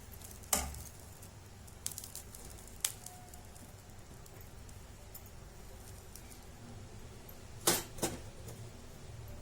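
Rava and poha dosa batter sizzles faintly on a hot pan, a low steady hiss broken by a few sharp clicks and scrapes of a spatula or ladle, close and quiet with no speech.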